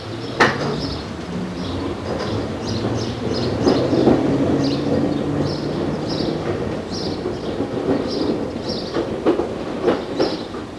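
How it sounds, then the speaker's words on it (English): Train trundling into Ongar station, a steady rumbling roll with rhythmic clickety-clack of wheels on rail joints and occasional faint squeals, fairly close and continuous with no talk. "the train trundles into Ongar station"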